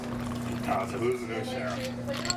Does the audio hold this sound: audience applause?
no